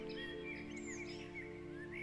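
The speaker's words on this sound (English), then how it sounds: "as the sun rises and you hear birds chirping" Faint birds chirp and tweet at sunrise in a quiet outdoor setting, short thin calls scattered across the clip over a low steady background hum.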